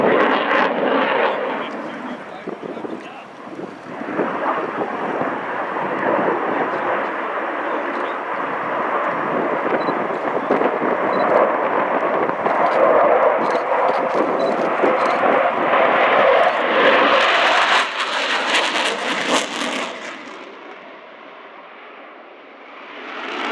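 A Polish Air Force MiG-29 Fulcrum jet flies its display routine at an airshow, a loud continuous roar that swells and fades as it passes, with commentary over it.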